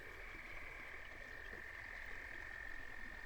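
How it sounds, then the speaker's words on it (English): Frogs croak in a steady, continuous chorus at a rustic county park campsite in Vernon County, Wisconsin, a dense trilling band held at an even level throughout with no voices. "There will be frogs."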